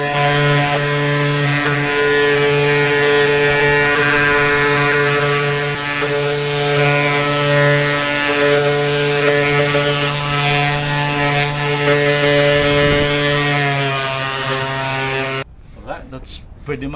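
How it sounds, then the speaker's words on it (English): A vacuum sanding system works over Awlfair fairing filler on a boat, a loud, steady motorized whine with a constant tonal hum that runs for about fifteen seconds and then cuts off abruptly. "I'm using the vacuum and sanding system, so it's nice and clean without any dust spreading all over the place"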